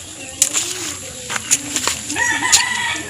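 Farmyard chickens cluck and squawk in short, uneven bursts with a brief crow-like call near the end, set against a noisy outdoor background, with faint voices in the mix.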